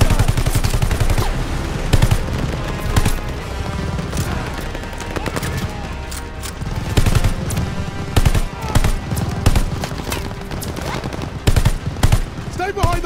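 Machine gun fire in Call of Duty Vanguard during a battle beside a half-track: loud, continuous automatic bursts and overlapping gunfire with shouting soldiers' voices mixed in throughout.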